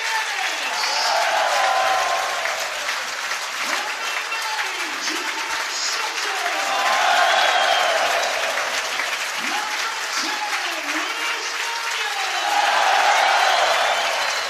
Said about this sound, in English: John Sutton getting a really good cheer from the crowd here